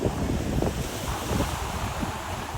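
Stormy sea surf rolling onto a crowded beach in Odesa in mid-September, a steady roar of crashing waves mixed with heavy wind buffeting the microphone, continuous and loud with no voices.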